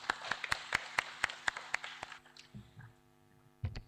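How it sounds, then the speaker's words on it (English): Sharp, evenly spaced claps ring out in a room at a conference opening ceremony, about a dozen steady beats that fade out, followed by faint shuffling. "I think we need to applaud them"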